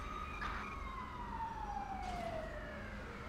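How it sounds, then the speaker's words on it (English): Ambulance siren in the LSPDFR police game, a wailing tone sweeping down and rising again, fairly clear and close over a low engine rumble. "There it is. Ambulance."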